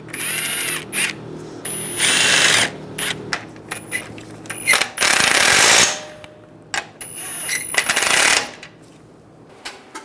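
Bolts being tightened with a ratchet while refitting the AC condenser on a 2011-2018 Ram 1500, heard as close bursts of rapid clicking and metallic clatter separated by short pauses, with no talk.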